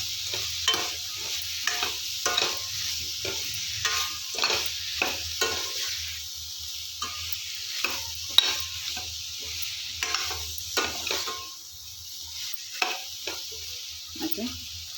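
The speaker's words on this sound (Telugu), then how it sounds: "సో ఇవి బాగా ఇలా అంతా కలిసేటట్టు ఒకసారి కలుపుకోండి." Chopped radish and bottle gourd with salt are stirred in a pan with a spoon, giving repeated scraping strokes over a soft steady sizzle, close and fairly quiet.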